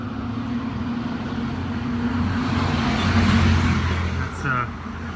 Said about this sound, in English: Lots of cars down that way.